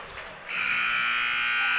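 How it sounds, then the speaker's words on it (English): At a junior girls' all-star basketball game, a loud, sustained electronic buzzer blares suddenly after a short murmur to end the half, holding a steady harsh tone to the end. "as the buzzer sounds to end the half"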